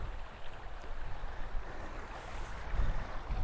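A steady wash of rushing water in the Cornish countryside near Launceston fills the air, with low rumbling and breezy noise underneath, no voices.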